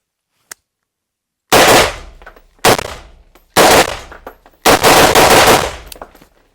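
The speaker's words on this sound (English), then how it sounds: "first I'm going to shoot some rounds unsuppressed and then some rounds suppressed" Gunshots ring out at close range, unsuppressed and then through a flow-through suppressor: a faint pop, a pause, then four loud sharp reports with short ringing tails, each spaced about a second apart.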